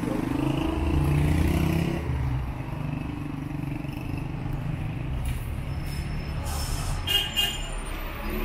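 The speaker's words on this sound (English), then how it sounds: "motorbikes are once again taking over the sidewalks" Motorbikes ride along sidewalks in downtown Tabriz at night, their engines droning steadily near and loud early on, then settling into busy street traffic noise with a brief horn-like toot toward the end.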